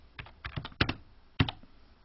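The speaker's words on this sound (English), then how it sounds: "type in Module 1" Fingers typing on a computer keyboard in a quiet room, a short irregular burst of close key clicks with two sharper louder strikes, no speech.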